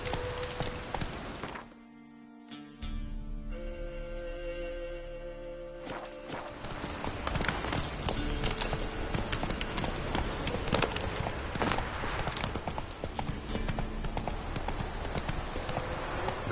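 Roach, Geralt's horse in The Witcher 3: Wild Hunt, gallops with a steady, close clip-clop of hooves that runs almost throughout, layered over ambient game atmosphere.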